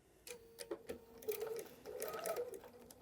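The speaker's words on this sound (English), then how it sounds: "I'm going to do my back stitch and sew carefully on the line." A sewing machine stitches a fabric seam on a tote bag in short bursts of quick, rhythmic mechanical clatter, fairly quiet and close, with little pauses between runs.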